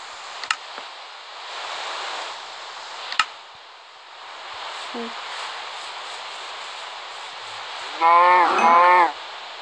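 A person imitates a cow mooing, a short voiced low-pitched moo near the end that follows a quiet stretch of outdoor hiss with a few faint clicks and knocks.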